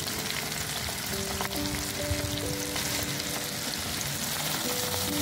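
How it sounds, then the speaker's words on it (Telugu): Mustard seeds, cumin, garlic, dried red chillies and curry leaves fry in hot oil for an amla pickle tempering, a loud, continuous close sizzle with crackling pops throughout and no talk. "ఈ వేడి నూనెలో 1 స్పూను ఆవాలు, జీలకర్ర, ఎల్లిపాయలు, ఎండిమిరపకాయలు, కరివేపాకు వేసి వేగనివ్వాలి."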